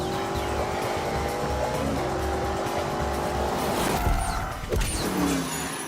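A BMW at full throttle in the racing game Grand Tour Game, its engine roaring steadily and loudly throughout, with a brief tyre-squeal burst near the end.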